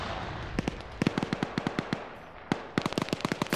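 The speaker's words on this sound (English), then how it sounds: "More grenades popping over." Grenades go off in quick succession during a competitive video game match, sharp popping cracks arriving in irregular clusters, fairly close and crisp over a low background hiss.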